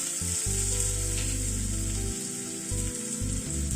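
Minced garlic hits hot oil already holding cumin and fenugreek seeds, raising a dense, loud, continuous sizzle over a low steady hum.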